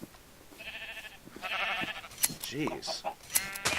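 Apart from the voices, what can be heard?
sheep bleating in Norsden video game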